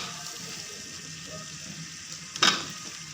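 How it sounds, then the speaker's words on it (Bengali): Pigeon curry sautés in a pan with a steady, even sizzle, then a single bright metallic clank of a spoon against the pan near the end. "দেখুন কত সুন্দর কষানো হচ্ছে"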